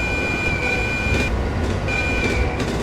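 A 701 series train horn in a train simulator video game sounds twice, each a steady tonal blast that stops abruptly, over a constant rolling rail rumble, with no talking.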